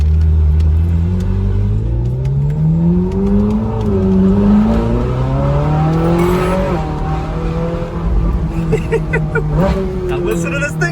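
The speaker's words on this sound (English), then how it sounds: "All right, 458 Spider launch." Ferrari 458 Spider launching hard from a standstill, its engine roaring loudly through rising revs with quick upshifts as it accelerates, heard from inside the car under excited talking.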